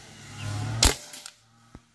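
A single sharp crack from an Argus M22 5.5 mm PCP air rifle firing a 1.5 gram pellet outdoors, followed by a brief hiss and a faint distant impact knock.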